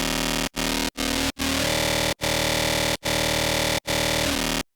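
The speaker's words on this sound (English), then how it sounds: "And you see you get some really cool long bass sounds." Dense, buzzy Serum synth bass notes for dubstep/riddim held for long stretches, separated by brief gaps, with a harmonically rich, sustained tone throughout.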